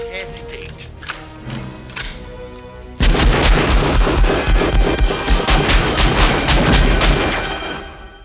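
Rapid bursts of gunfire and booming blasts from a scene in the film Die Hard erupt after a quieter opening, loud and sustained with a dense, chaotic texture.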